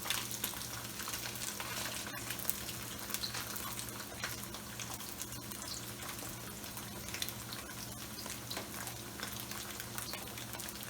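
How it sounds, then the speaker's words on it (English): Tofu deep frying in oil on high heat gives a steady, dense sizzle and crackle, with a constant hiss and scattered tiny pops throughout, close by and unbroken. "So we got the heat on high right now, and we're just gonna let it deep fry for"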